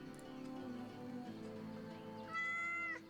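A cat in the video game Yes, Your Grace meows repeatedly under a steady musical background, with a brighter, louder drawn-out meow near the end.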